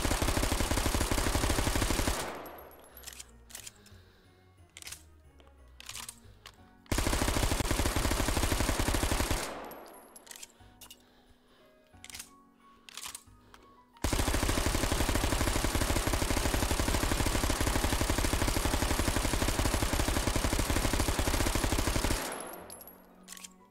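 Zip 22 firing in the shooting game Hot Dogs Horseshoes & Hand Grenades, loud rapid gunfire in long sustained bursts, broken by short gaps with faint clicks and handling clatter.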